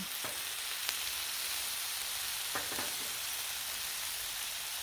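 Sirloin steak searing on a hot griddle, a steady broadband sizzle running throughout with a few faint clicks and taps, no talking.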